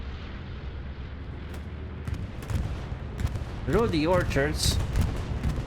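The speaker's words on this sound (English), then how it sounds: "We have a bombing run" Deep rumbling explosions of a bombing run in a competitive video game match, heavy booms building and layered with a voice talking over them and a brief rising whistle near the end.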